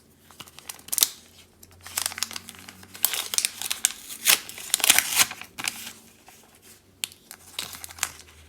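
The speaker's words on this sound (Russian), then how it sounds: "Давайте мы сегодня откроем пакетик с розовой коровкой." A thin plastic surprise sticker packet crinkles and rips open in several bursts, with rustling handling sounds between them, close up and without any voices.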